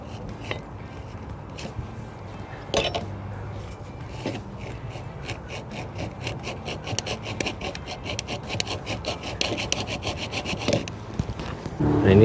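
A hacksaw cuts through a metal RV rear bumper with a run of quick, rhythmic rasping strokes, close and fairly loud, starting with a few scattered scrapes before settling into steady back-and-forth sawing.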